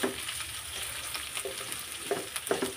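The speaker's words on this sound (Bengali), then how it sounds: "তেজপাতা, এলাচ, দারচিনি সুন্দর করে একটু ভাজি করে নেব।" Onion, green chili, bay leaf, cardamom and cinnamon fry in a pot for a chicken curry, a brief, quiet sizzle with several light scraping taps of a stirring utensil and no voices.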